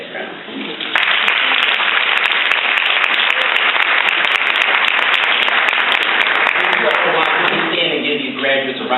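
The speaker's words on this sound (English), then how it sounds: "Graduates a round of applause." Loud, sustained applause from an audience at a graduation ceremony starts abruptly after a second and holds steady and dense for several seconds, then fades as a voice begins speaking.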